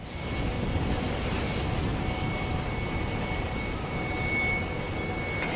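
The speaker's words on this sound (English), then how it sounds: "Then pushed back through the bunker for a part load." An OO gauge model coal train being pushed back through a loading bunker on a layout gives a steady close mechanical hum and rolling rumble with a thin high whine throughout.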